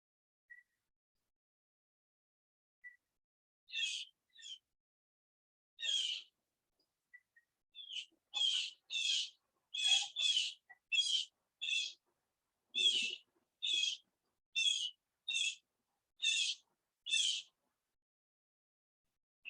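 Blue jays call on a morning outdoors, a run of short, sharp bright notes repeated in uneven bursts, fairly faint against a quiet background with a voice briefly in between.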